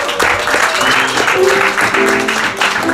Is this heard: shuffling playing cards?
no